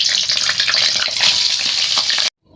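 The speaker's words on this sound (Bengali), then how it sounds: "তেল গরম হয়ে গেছে, এবার পটলগুলোকে ভালো করে আমি ভেজে নেব লাল করে।" Pointed gourd (potol) frying in hot mustard oil in a kadai makes a loud, close, continuous hissing sizzle that cuts off abruptly near the end.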